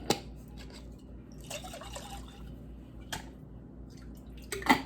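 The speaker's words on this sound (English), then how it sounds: "I'm going to put a little water in these and get these rinsed out a little bit so we don't lose any of our sauce" Water splashes and sloshes as sauce jars are rinsed, with a low, continuous hum beneath. Short bursts of swishing liquid are followed by brief clinks and drips near the end.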